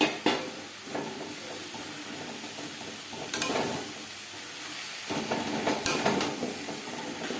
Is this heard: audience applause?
no